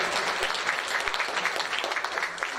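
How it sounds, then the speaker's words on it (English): A meeting audience applauds Brent at a school district committee session, a steady wash of many hands clapping at moderate volume for under three seconds, with no talk over it. "let's give Brent a round of applause"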